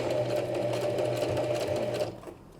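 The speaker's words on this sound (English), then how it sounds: "I'm just going to sew on the inside of that line." A sewing machine runs in a steady, fast rhythmic whir while stitching a coin purse, close and continuous for about two seconds before stopping abruptly, leaving quiet room tone.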